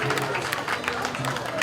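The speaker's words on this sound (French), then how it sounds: "Merci d'applaudir pour le Sénégal." Audience applause at a cultural day event in honour of Senegal, a steady dense wash of clapping from a crowd, fairly loud and continuous throughout.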